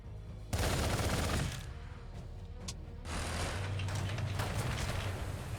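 Sustained gunfire bursts from the strategy game Warhammer 40k Gladius, a loud dense fusillade starting abruptly, easing, then swelling again into steady rattling fire over a low rumble.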